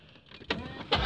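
A Chevrolet Corvette sets off for a drive, its engine and cabin noise swelling in two close surges as it pulls away, loud and unaccompanied by talk.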